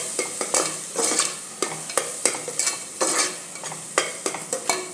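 Spices are stirred into pav bhaji in a pressure cooker, with a spoon scraping in quick, repeated strokes over a light sizzle, close and clear.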